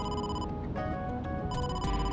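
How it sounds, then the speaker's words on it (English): A phone rings in the video game AI: The Somnium Files, its repeated electronic tone sounding over steady background music, the rings pulsing in short bursts through the clip. "Another phone call."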